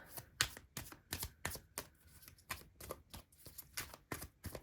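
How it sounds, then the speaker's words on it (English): Tarot cards drawn and flicked from a deck in a series of sharp, crisp snaps and slaps, close and fairly loud, in an uneven quick rhythm with no talking. "So let's pull a few more cards and get some insight."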